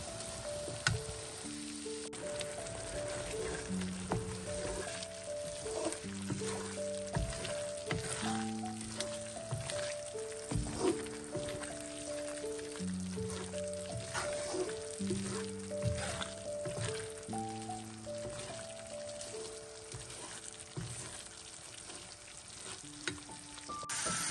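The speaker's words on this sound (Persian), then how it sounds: "ما کسته گلگوبی را انداز کردم" Cauliflower pieces fry in a pan with a steady, quiet sizzle and crackle, joined by occasional stirring clicks, while music plays throughout.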